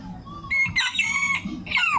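Chabo bantam chickens let out short clucks and bright, high calls in quick bursts, near and fairly loud, with a voice faintly behind them.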